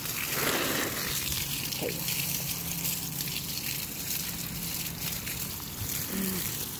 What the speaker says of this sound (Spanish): También un rosal que está por ahí. Poquita agua también la voy a poner.